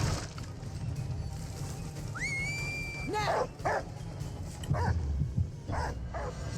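A hound in the Dead by Daylight video game yips and barks several times, with a rising whistle-like tone before the bursts, over a steady game background.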